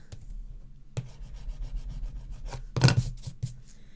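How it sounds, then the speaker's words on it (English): Bone folder rubbed over paper while making a homemade address book, giving short, close scraping strokes with brief pauses, the loudest stroke near the end. "use your bone folder if you want"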